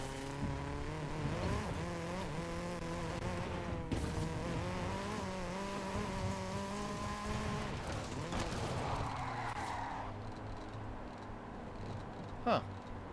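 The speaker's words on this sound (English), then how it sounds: "I can hear this guy's car running." A car engine hums steadily in a video game, its pitch wavering gently as revs rise and fall, with a brief squeal-like sweep near the end; the whole sound is faint and low in level.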